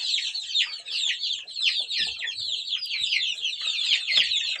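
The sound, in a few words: chickens clucking, month-old chicks moved to wider space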